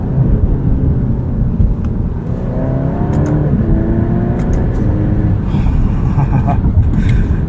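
Alfa Romeo Giulia Estrema engine in dynamic mode, loud steady drone inside the cabin with rising pitch sweeps as quick paddle-shifted gear changes snap through, interrupted by brief dips between shifts.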